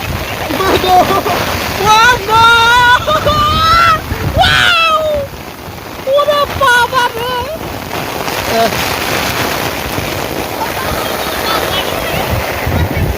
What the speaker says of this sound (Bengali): দেখতে পাচ্ছ বৃষ্টির লেভেলটা দেখো আজকে